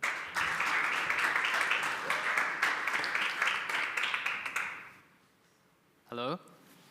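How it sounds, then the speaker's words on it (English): Sustained applause from an audience for a student team at a waste challenge event, dense clapping that fades out after several seconds, followed by a brief voice. "So let's give a big applause for them"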